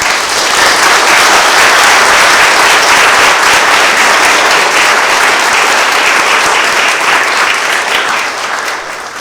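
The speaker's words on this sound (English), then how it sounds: "please welcome him with a big applause" A large lecture audience at a Vedanta Society talk breaks into loud, sustained applause, a dense wash of clapping that holds steady for several seconds before easing slightly at the end.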